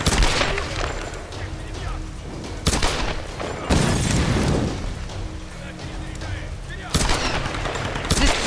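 Rapid bursts of gunfire from the Tomb Raider video game, loud repeated volleys with short pauses between them, mixed with game effects and a voice reacting over it.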